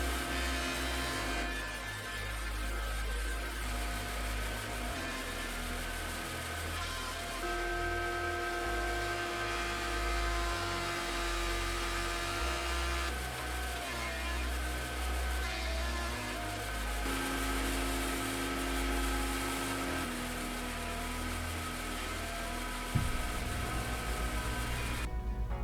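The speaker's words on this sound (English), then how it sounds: "over at the planer, I'm going to bring these boards down to their rough thickness." A thickness planer mills wooden boards down to rough thickness in a woodworking shop, giving a loud, steady motor drone with shifting tones as each board feeds through, running continuously with no talking.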